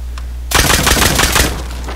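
Rapid automatic gunfire bursts out in a video game and rattles on for about a second and a half, loud and dense, then breaks off into a steady background hum.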